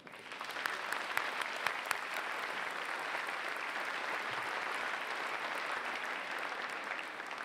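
Sustained audience applause fills a large hall at a Ferris State University fall commencement ceremony, a steady dense clatter of many hands clapping at even loudness throughout, with no talking over it.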